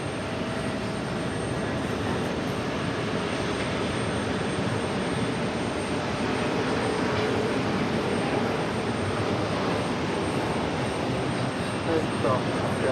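An Airbus A330 jet roars steadily at JFK airport in New York, a continuous broad engine rumble and hiss that stays loud and unchanging, with a voice talking over it.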